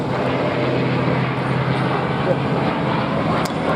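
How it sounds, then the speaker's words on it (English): A Grumman Bearcat's big piston engine and huge propeller roar steadily at an air show, a loud, continuous drone that holds level throughout, with a faint voice in the background. "the engine provides lots of horsepower to this big, huge propeller."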